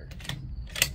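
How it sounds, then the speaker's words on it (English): A .357 Skout gun is dry-fired, giving two short mechanical clicks, a softer one followed by a sharper snap, close and alone over a low background rumble. "Dry fire."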